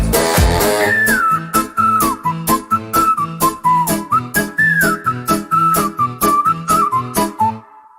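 Someone whistles a bright, sliding melody over a steady, rhythmic accompaniment of a cheerful Slovak pop song. The whistle is loud and close, weaving through the backing beat for several bars.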